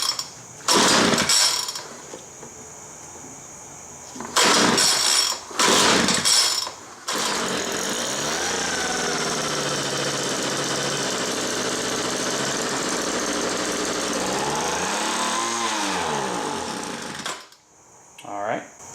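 A Homelite MightyLite 26b leaf blower, just repaired, is pull-started on full choke: short bursts from the rope pulls, then the small two-stroke engine catches and runs steadily and loudly for about ten seconds before it cuts out.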